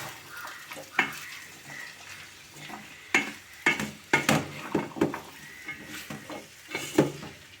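A spoon stirs chopped carrot pieces in a frying pan with sizzling oil for a Telugu village-style carrot and tomato masala curry, giving repeated scraping knocks and clatter against the pan over a steady sizzle, with no talk.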